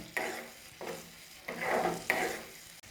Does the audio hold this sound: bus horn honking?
no